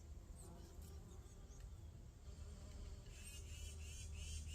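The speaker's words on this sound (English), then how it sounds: "there are some bees doing their thing" Bees buzz around flowers in a May garden while gathering pollen, a faint, close, wavering hum that keeps going and grows slightly louder toward the end.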